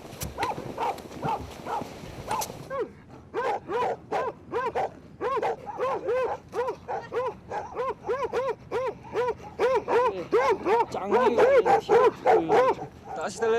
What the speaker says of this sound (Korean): 낯선 이방인의 존재를 눈치챈 개가 멀리서 큰 소리로 짖는다.